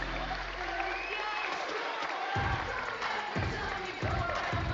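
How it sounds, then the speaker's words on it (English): Crowd applause and cheering for the fifth-place finisher at the 2025 Detroit Pro Show Classic Physique finals, a broad steady wash of clapping and voices in a large hall with bursts of louder cheering. "Ladies and gentlemen, a round of applause for Jack Eagles"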